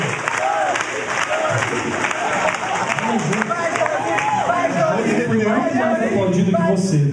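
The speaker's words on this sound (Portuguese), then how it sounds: "Salva de palmas pra Josi" Live audience clapping for a woman named Josi being called up on stage at a comedy engagement show, steady applause with scattered cheers and voices talking over it throughout.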